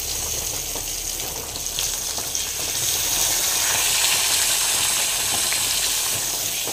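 A large home-grown eggplant seasoned only with salt and chilli powder fries in a pan, giving off a steady, loud, hissing sizzle that swells slightly midway and carries on without pause.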